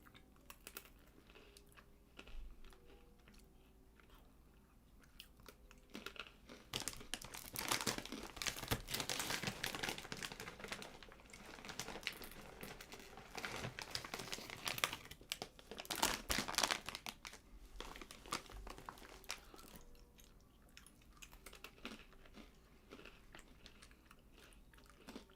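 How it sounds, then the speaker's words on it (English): A person chews food close to the microphone, with crunchy, crinkling bites that rise and fall in bursts over a long stretch, loudest in the middle. "Can you guys hear me chewing?"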